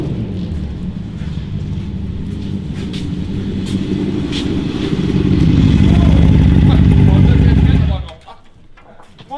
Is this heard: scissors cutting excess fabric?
no